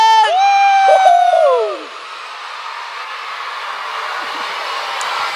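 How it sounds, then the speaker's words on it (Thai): Young first- and second-grade schoolchildren cheer for their classmates at a school event. A loud, high burst of shouting and whooping lasts about two seconds and then fades into a lower crowd murmur. "ขอเสียงเชียร์เพื่อนอีกรอบนึง"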